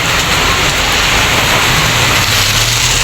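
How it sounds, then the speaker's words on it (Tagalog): Heavy rain pours steadily, a dense loud hiss of drops drumming on a surface with a faint low rumble beneath. "Medyo malakas ang ulan"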